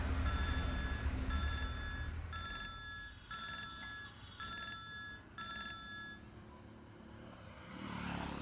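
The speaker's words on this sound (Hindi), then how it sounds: "जी हुसैन साहब, मैं आपसे मिलना चाहता हूँ, इसीलिए आपको फ़ोन किया" A telephone bell rings in six evenly spaced bursts, steady and moderately close, over a low rumbling background, with a different noise swelling at the end.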